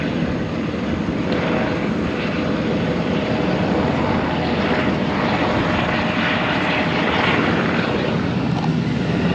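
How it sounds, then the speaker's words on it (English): Sightseeing helicopter flying in over the 12 Apostles coastline, a loud continuous rotor and engine roar that swells gradually, heard from the ground without talk. "There's one coming in"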